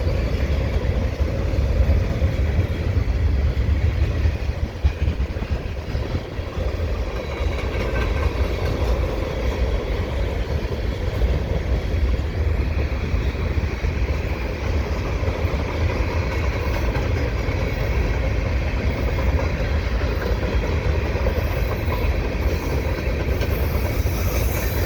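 A CSX freight train with a vintage 1990s locomotive rumbles past quickly for a long stretch, deep continuous roar with rolling wheel noise and faint metallic squeal, no voices.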